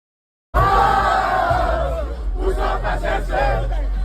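A loud crowd of Ghana Black Stars supporters at a World Cup match against Panama roars and chants in a sustained mass of voices, starting abruptly after a brief silence and continuing without letup.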